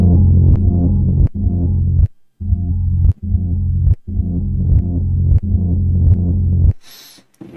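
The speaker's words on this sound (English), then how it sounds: "There's distortion saturation right there." A music track heavy with distortion and saturation plays as a loud, thick, bass-heavy beat that cuts out briefly several times, ending with a short high sweep.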